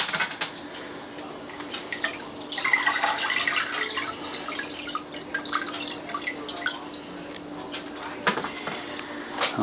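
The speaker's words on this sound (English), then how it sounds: "let them drip off a little bit" Brined chicken pieces set on a rack drip water steadily, a scatter of small close drops and trickles with faint kitchen clatter, no one speaking.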